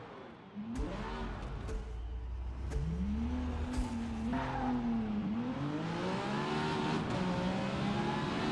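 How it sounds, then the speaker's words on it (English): An older car accelerating hard on a race hot lap, engine pitch climbing steadily through the gears with shifts between rising sweeps, heard loud from inside the car. "You can tell this thing's a monster when it comes to accelerating."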